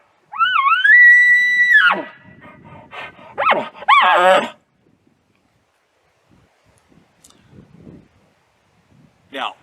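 A human voice imitates aggressive elk calls: two rising, whining squeals followed by short strained grunting bursts, loud and close, then near silence with faint breathy huffs and a brief final sound.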